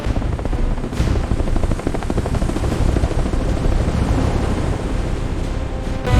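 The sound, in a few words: military helicopter airlifting Kong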